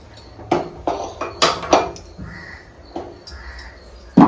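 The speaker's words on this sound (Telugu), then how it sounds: "ఇప్పుడు కళాయి పెట్టుకుందామండి" A metal kadai (wok) set down on a home stove, giving a series of sharp clanks and scrapes of metal on metal, irregular and close, ending with a louder knock.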